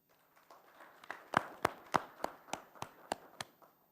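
Single claps ring out one at a time during a roll call at a county board meeting, about ten sharp, evenly spaced hand claps in a hall, moderately close, with faint room murmur beneath.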